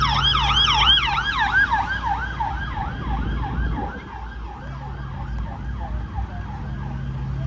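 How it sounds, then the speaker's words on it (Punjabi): A police siren wails in a fast repeating up-and-down pattern on a busy shopping street in Birmingham, England, loud and near at first, then dipping slightly, with road traffic rumbling underneath. "ਅੱਧਰ ਪੁਲਿਸ ਆ ਗਈ ਆ"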